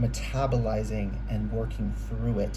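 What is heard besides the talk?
No everyday noise stands out behind the speech.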